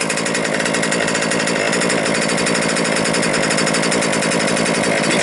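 A Losi 5ive B large-scale RC car's gas engine revs hard and steadily during a break-in heat cycle, a loud, close, continuous buzzing drone that holds for the whole stretch with no voices.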